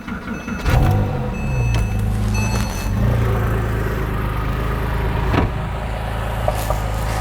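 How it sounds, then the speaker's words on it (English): A BMW car with an M9X-family engine, cylinder bore scoring, cold-starts with a sharp crank and a loud rumbling idle, the exhaust popping and burbling close by. "You can hear the exhaust kind of popping, you know, the typical things that happen with one of these cars when it's first cranked up"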